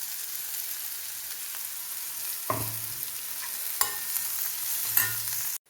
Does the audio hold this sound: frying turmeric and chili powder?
yes